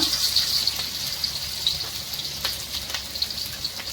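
Green chilies and ginger frying in oil for veg Manchurian: a continuous close bright sizzle with crackling pops scattered throughout, fairly loud and steady.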